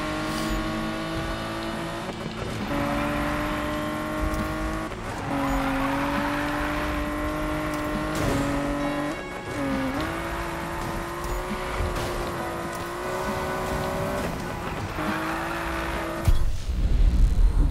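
A tuned grey Nissan Skyline in a racing video game accelerates hard on a NOS boost, its engine note climbing and dropping through repeated gear changes for about eighteen seconds, loud and continuous, with brief tire squeals and no talking.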